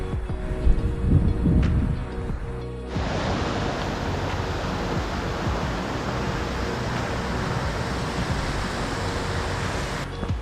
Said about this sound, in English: Pretty steady flowing creek we got here.